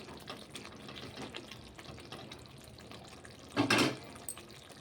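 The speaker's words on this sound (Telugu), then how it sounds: "చూడండి చక్కగా ఉడుకుతుంది" Ivy gourd curry with raw masala simmering in a pot, quiet bubbling and soft popping throughout, with a brief louder gurgling surge near the end, close and faint.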